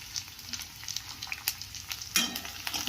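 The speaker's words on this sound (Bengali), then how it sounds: "তো আলুটা এবার একটু ভাজা হয়ে গেছে, এবার ওর মধ্যে দিয়ে দেবো পেঁয়াজ কুচি আর লঙ্কা কুচি।" Potatoes frying in a pan with chopped onion and green chili added, a dense continuous sizzle with crackling pops and a louder burst of spitting toward the end, no voices.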